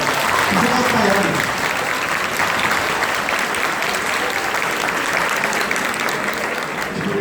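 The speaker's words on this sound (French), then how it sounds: "Vous pouvez les applaudir, ils sont super incroyables." A crowd applauds tutors at a student tutoring speech, a loud, continuous wash of clapping that stays full and even throughout, with faint voices mixed in.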